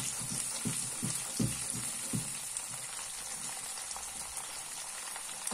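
Chicken longaniza sausages, lean and nearly fat-free, fry in a pan with a steady sizzle and soft crackle, broken by a few low thumps and clatters of stirring or handling near the start.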